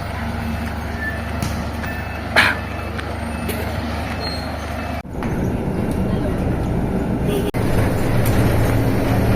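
A hop-on hop-off bus on Boracay running steadily with a loud engine rumble. Beeps, a hiss of air brakes and a couple of sudden shifts in the engine noise come through as people talk over it.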